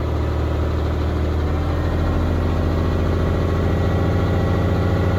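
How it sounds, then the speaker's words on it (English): Truck engine idling steadily during an air brake test as the air compressor governor cuts off, a continuous close, loud low-pitched drone with no voices. "And then you could hear the governor will cut off."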